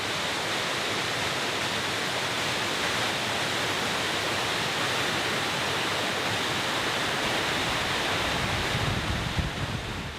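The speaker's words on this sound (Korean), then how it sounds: "시원한 물소리가 가슴을 뚫고 흐른다." Rushing water in Hwayang Valley, a mountain gorge in Songnisan National Park, a loud, steady broadband roar of flowing stream that fills the scene evenly, close and unbroken with no voices.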